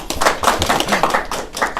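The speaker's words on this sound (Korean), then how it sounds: "박수로 맞이해주시고" A lecture audience claps to welcome the invited speaker at an event on China's politics, economy and international trade, a steady patter of hand claps throughout with faint talk underneath.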